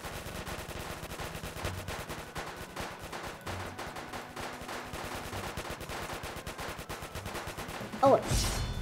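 Continuous rapid gunfire from a gun in a Roblox zombie game, a steady stream of shots with a louder burst near the end.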